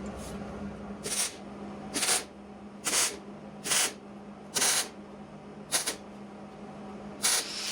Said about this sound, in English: Start welding.